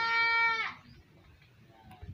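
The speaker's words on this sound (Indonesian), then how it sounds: "Kita lihat, ini ada domba-domba. Ini ada domba Garut." A Garut sheep on a farm in Aceh gives one loud, close, wavering bleat lasting over half a second, then fainter farm noise.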